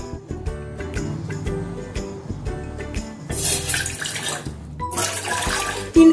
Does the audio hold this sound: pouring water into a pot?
yes